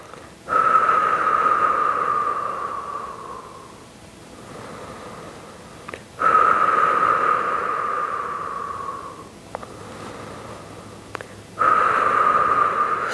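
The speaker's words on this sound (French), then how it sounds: "Inspire, expire. Inspire, expire." Slow, deep breathing during a Pilates exercise: long airy breaths come in a steady in-and-out rhythm, close and fairly loud, with no talking.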